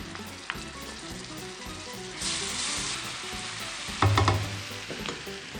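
Shrimp dish ingredients sizzle steadily in butter, garlic and chili garlic sauce in a pan. A louder hiss swells midway and a brief clatter of utensils sounds near the end, with no talking.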